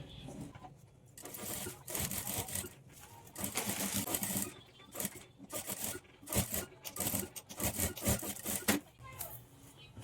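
A sewing machine topstitches thread piping on a blouse in short, fast whirring bursts with brief stops between them, close and moderately loud, and a voice talks in the background.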